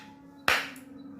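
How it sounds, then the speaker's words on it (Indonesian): A single sharp hand clap, loud and close, sets off a sound-activated lamp in a quiet room with a steady low hum underneath. "saya akan melakukan tes untuk tepukan yang pertama"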